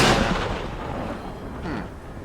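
A bomb blasts in Terraria, a loud booming burst at the start that decays into rumble, followed by a second softer blast shortly after.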